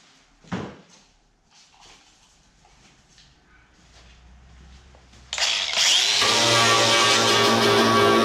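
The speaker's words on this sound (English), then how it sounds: "I'll just get a drill in there and open it up a bit and see if there's any good metal left" A drill opening up rusty metal on a Mopar Galant Coupe bonnet, preceded by a few faint knocks and clunks, then the drill starts loud and whines steadily through the final few seconds.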